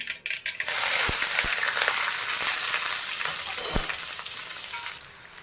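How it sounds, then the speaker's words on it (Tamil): Sliced onions and green chillies sizzle loudly in hot oil with mustard seeds and curry leaves in a pan, a steady dense frying hiss broken by a few sharp clinks of a spoon, no voices. "இந்த வெங்காயத்தை நம்ம நல்லா சிவக்க வதக்கிக்கலாம்"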